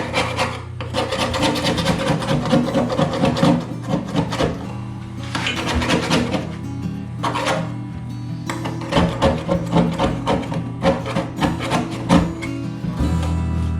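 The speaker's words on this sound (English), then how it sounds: "I think I'm going to get a putty knife and try to scrape some of this off" A putty knife scrapes old sealant off a surface in repeated rough strokes, loud and close, with short bursts of rasping separated by brief pauses and no talking.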